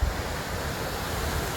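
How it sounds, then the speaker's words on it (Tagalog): Broadband surf roar from ocean waves breaking on a wide sandy beach in Ilocos, a steady continuous wash with wind buffeting the microphone and no talk. "Ang lalaki ng alon doon"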